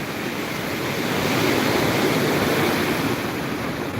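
Ocean surf at Vettukad beach rolls in as a steady, loud wash of breaking waves with some wind rumble, constant throughout with no voices.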